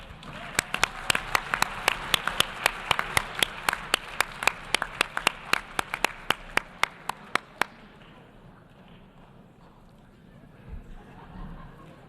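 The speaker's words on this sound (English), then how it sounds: "a warm round of applause for everyone" Sparse, sharp handclaps ringing through the UN General Assembly Hall for delegates at a closing ceremony, a steady patter that fades out after several seconds, leaving quiet room tone.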